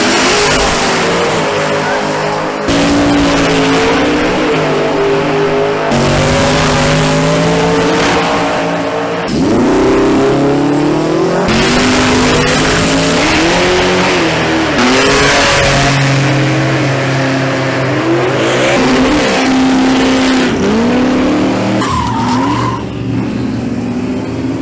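Street cars roar down the strip at Rockingham Dragway during a drag racing event. Several loud engine passes rev hard and shift, with one run following another, close and dominant, and no talking.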